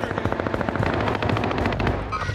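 Sustained machine-gun fire in a video game, a loud, fast rattling stream of shots in close, rhythmic bursts that continues for a couple of seconds with no talking over it.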